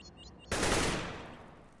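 An AK rifle fires through a tree in CS:GO on the Overpass map: one sharp, loud shot that bursts in abruptly and then fades in a long echoing tail, after a brief moment of faint sound.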